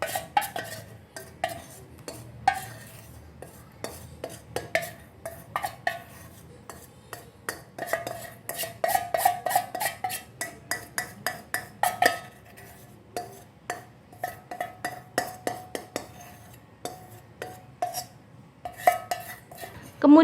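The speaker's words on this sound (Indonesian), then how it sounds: "Kemudian aduk kembali hingga semuanya tercampur rata." A utensil scrapes and knocks against a bowl while stirring brownie batter with cooled melted chocolate and dissolved sugar, mixed by hand, a steady stream of quick clinks and taps with no talking.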